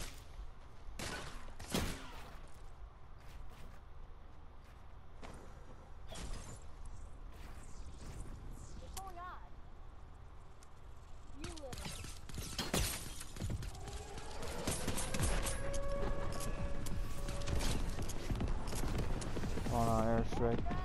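Airstrike explosions in a Fortnite creative minigame build from scattered cracks into a sustained, dense rumble of blasts and shattering debris, with voices talking over the action.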